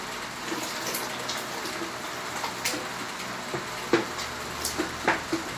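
Lye being poured into a liter of water for glycerin soap, a soft steady trickling and splashing with a few small clinks toward the end.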